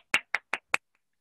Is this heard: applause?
yes